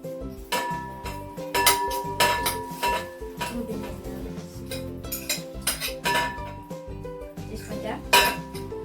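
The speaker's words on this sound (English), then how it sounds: "So now, mash your bananas until they look like this, basically." Bananas are mashed in a bowl for a kids' sugar-free banana cake. The fork or masher clinks and knocks against the bowl in uneven bursts, with voices heard faintly in the background.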